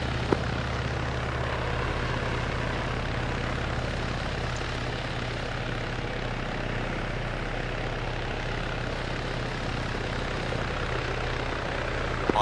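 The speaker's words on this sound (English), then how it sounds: "I got the second helicopter ready" Steady, droning helicopter rotor and engine noise in Arma 3 as a helicopter lifts off, holding at a constant level throughout, a continuous low hum with a broadband wash and no voices.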